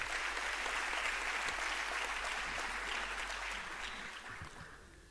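An audience applauds at a business competition final, a dense, steady clapping that carries on for several seconds before gradually thinning and fading toward the end.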